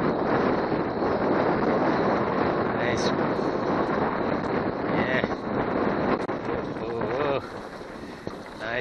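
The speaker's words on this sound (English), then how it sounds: "It's so windy. Oh man, so windy." Strong wind buffets the microphone in a constant, heavy rumble, with brief voices and faint water sounds beneath the roar, while shad fishing at a boathouse.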